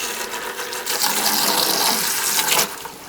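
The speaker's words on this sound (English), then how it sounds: "White water coming out like some gun" Water sprays hard out of a new PEX waterline fitting, a brass 3/8 to 1/4 inch reducer, giving a loud, steady rushing hiss for about three seconds before it eases off.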